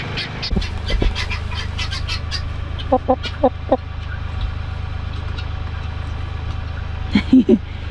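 Chickens cluck near a muddy spring farmyard, a few short bursts of clucking around the middle and a louder cluster near the end over a steady low background hum.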